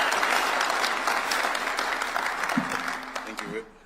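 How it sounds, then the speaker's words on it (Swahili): A crowd at a State House meeting applauds to welcome Nairobi governor Johnson Sakaja, a dense burst of clapping that holds steady and then tapers off, with a voice speaking near the end. "Tumpige makofi yake"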